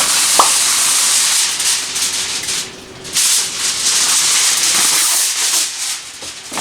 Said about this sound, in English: your next step is to cover this with foil